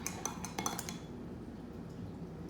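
A utensil stirs melt-and-pour soap mixed with a natural brown colorant in a container, giving a quick run of close, sharp clinks and scrapes against the sides before the sound drops to quiet room tone.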